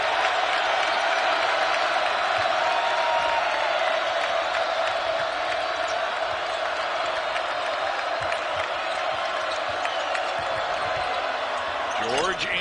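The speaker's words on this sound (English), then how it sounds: "For Dylan Dessou, and here comes the crowd" Crowd cheering and applause swells at a college basketball game between Baylor and Texas in Austin after big free throws, a sustained arena roar with a commentator talking over it and court sounds near the end.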